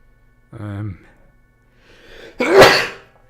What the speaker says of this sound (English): I sneezed like once or twice